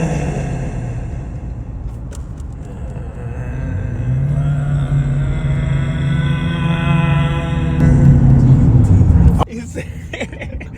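A Dodge Challenger R/T engine drones steadily while the car is driven, rising in pitch and loudness as it revs, then dropping sharply when the driver downshifts, with road rumble underneath.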